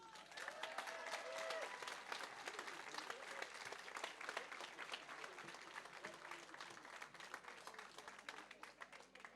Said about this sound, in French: Je vous demande d'applaudir très fort Caroline Demolle.